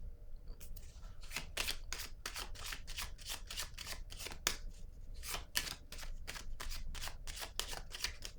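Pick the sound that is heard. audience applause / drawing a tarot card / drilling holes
drawing a tarot card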